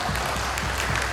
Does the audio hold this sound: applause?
yes